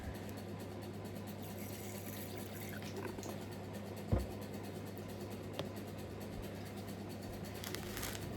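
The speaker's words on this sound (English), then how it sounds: "Right, some water in." Water poured into a small water bowl in a tarantula's enclosure gives a faint, soft trickle and fill with one brief splash partway through, over a quiet background hum.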